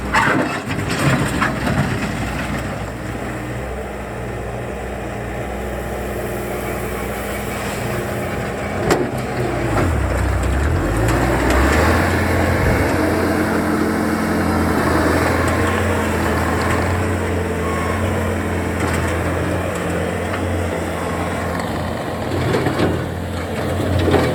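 A Bobcat T550 skid steer loader runs with a steady engine drone and a loose rubbery rattling, close and continuous, with one louder knock partway through and no speech.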